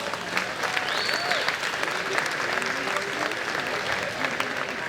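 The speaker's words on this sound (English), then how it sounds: "So give them all a round of applause." A banquet crowd at a Lindale Area Chamber of Commerce annual dinner breaks into sustained applause, a dense, even wash of many hands clapping, with faint whistles and voices mixed in.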